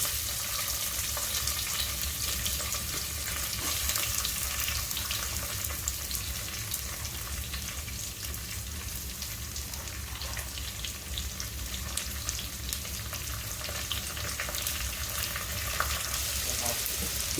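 Onions fry in a pan for an Ayala fish curry, giving a steady, close sizzle with occasional crackles and stirring throughout.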